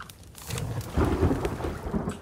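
Thunder rumbles low and heavy over steady rain in The Forest video game, with pattering drops and deep rolling booms.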